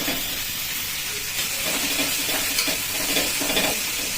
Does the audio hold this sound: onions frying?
yes